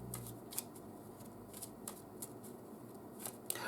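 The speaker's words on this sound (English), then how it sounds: "you can look at those cards if you want while I get this one shuffled" A deck of tarot and Kipper cards is shuffled quietly, giving soft papery riffles and crisp little clicks in irregular bursts, close but faint, with no voices.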